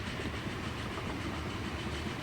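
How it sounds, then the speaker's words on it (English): In the Transport Fever 2 video game, a narrow gauge steam train on a logging line climbs an incline, giving a steady, dense rumble of chuffing and rolling rail noise with no breaks and no talk. "Oh, you can hear it chuffing."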